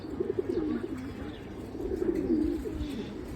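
Pigeons coo softly in repeated low, throaty bursts close by, with a few faint chirps and no talking, in a pigeon loft at feeding time.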